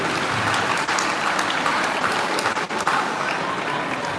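A crowd claps loudly and continuously at a high school debate event, sustained applause filling the room.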